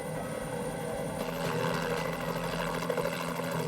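A police helicopter flies overhead, its rotor producing a steady throbbing drone that grows slightly louder partway through.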